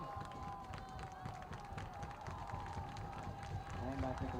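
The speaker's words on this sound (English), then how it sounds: "And the Central crowd below us is getting loud." Student section crowd at a high school soccer match between Grand Forks Central and Red River, a steady loud roar of cheering voices with scattered shouts, continuous throughout with broadcast talk over it.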